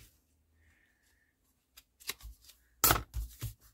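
Paper being trimmed with scissors for a craft journal, heard as a few close, crisp snips and rustles after a quiet stretch.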